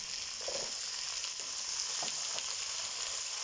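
Onions and potatoes fry in a pan with a steady, close sizzle that runs throughout, with a few faint stirring knocks and no talk.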